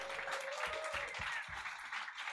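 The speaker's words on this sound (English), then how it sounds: "Give a big round of applause for Managing Director of Drink Magazine, Holly Graham" Brief, faint applause from the crowd at a cocktail competition's regional final, steady clapping heard from a distance with a few louder low thumps mixed in.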